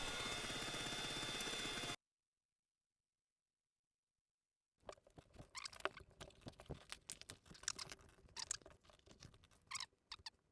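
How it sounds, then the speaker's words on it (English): An alginate foot mold being vibrated to drive out air bubbles, a brief loud buzz, then silence, followed by rapid uneven rattling and patter bursts close by. "Vibrating out the bubbles."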